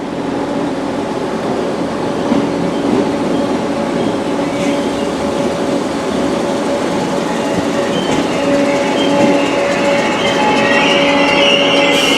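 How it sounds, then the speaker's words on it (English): A Merseyrail electric train rumbles and hums steadily at close range, wheels faintly squealing and rising in pitch as it pulls into a station. "my train towards Eastham Rake will be arriving soon, a Merseyrail unit to take us there"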